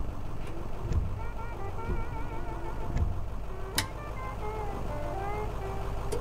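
A cat meows a few times aboard a bus in the Night Bus video game, short tonal cries rising over a steady low engine rumble, with a couple of sharp clicks.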